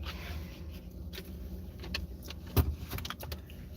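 A roll-off truck idling nearby gives a low, steady engine rumble, with scattered light clicks and jangles on top and one sharper knock partway through.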